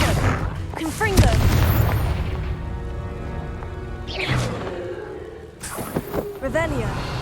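Confringo explosion spell blasts in the Hogwarts Legacy video game, several booming bursts with whooshing swells spaced across the clip, while voices speak between and over them.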